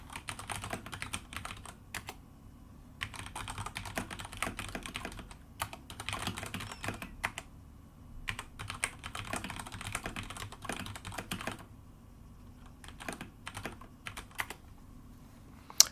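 Rapid bursts of typing on a computer keyboard, quiet and close, with clicking clusters broken by short pauses and no voices over it.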